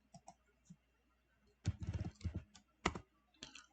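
Typing on a computer keyboard, a few soft scattered keystrokes followed by a quick dense burst of clacking keys and a couple of final taps, close and quiet.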